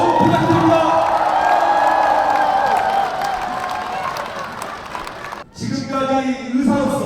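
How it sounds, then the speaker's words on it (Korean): A concert crowd at a Democratic Party political event in Gwangju-Jeonnam bursts into loud applause, cheering and whoops, with voices mixed into the roar. The noise briefly drops out near the end, then surges back. "다시 한번 큰 박수 부탁드립니다."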